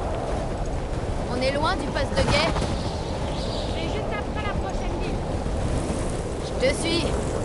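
Gusting wind of an approaching storm in The Last of Us Part II, a steady broad roar like wind and surf with a rough rumble, heard under intermittent speech.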